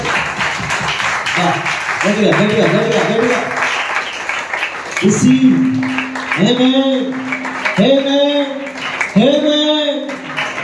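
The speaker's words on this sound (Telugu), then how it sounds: "ఒక్కసారి నమ్మితే గట్టిగా చప్పట్లు కొట్టండి." A church congregation clapping loudly, sustained applause behind a strong, melodic voice that carries over it throughout.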